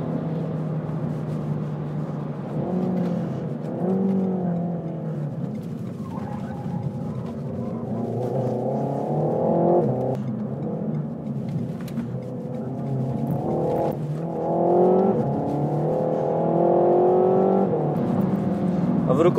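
A Renault car engine pulls hard under acceleration from inside the cabin, its steady rising drone with gear changes running throughout while someone talks over it.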